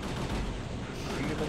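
Energy shot blasts firing in the Parasite Eve 2 video game, a dense, continuous burst of loud gunfire-like crackle with no gaps, close and unbroken across the moment.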